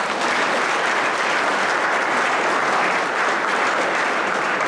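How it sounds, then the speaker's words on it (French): Dense, sustained applause from a convention crowd at a national leadership event in Mauritius, honoring the Prime Minister, a steady loud roar of clapping throughout with no pauses. "Vous pensez que le Premier ministre mérite un grand applaudissement."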